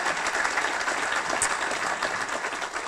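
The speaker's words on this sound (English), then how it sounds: "So give yourselves an applause for coming along." Audience applause at a fundraising brunch on the bay, a steady wash of many hands clapping that fills the whole stretch at an even, moderate level with no voices over it.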